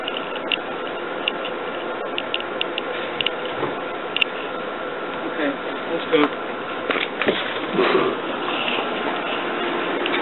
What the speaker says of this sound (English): there's wasps over here behind by this ladder